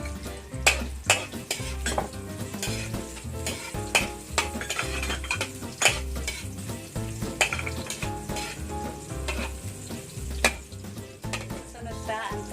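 Onions sautéing with crushed garlic in a pan while Ginataang Hito is prepared, a steady sizzle of frying with repeated stirring scrapes and metallic clinks of utensil against the pan, loud and close, with no talking.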